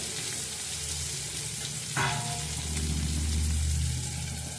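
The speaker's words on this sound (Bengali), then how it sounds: "আলুটা ভালো করে 5 মিনিট ভাজার পরে একটু লাল লাল" Potatoes fry in a pan with a steady, close sizzle, broken around the midpoint by a brief clatter as they are stirred, after which the frying swells slightly louder.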